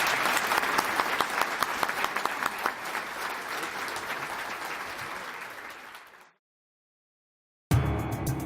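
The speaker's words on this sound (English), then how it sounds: "Another round of applause for these gentlemen." Loud, sustained applause from a crowd at an awards dinner, clapping steadily before fading out into silence, then a brief burst of sound at the end.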